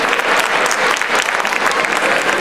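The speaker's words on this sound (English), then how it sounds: "Big round of applause" A loud, dense round of audience applause after a community thank-you speech, continuous clapping throughout with no pauses.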